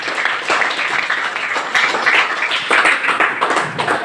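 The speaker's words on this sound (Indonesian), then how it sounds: "Saya tepuk tangan dulu." Steady applause from a classroom audience at a teaching session, moderately loud, continuous hand clapping lasting a few seconds with faint voices underneath.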